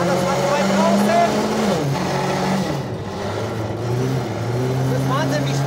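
Car engine driving fast through a corner on a frozen lake in Sweden, revs rising and falling as gears shift, steady and close, with someone talking over it.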